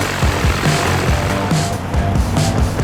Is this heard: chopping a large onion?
no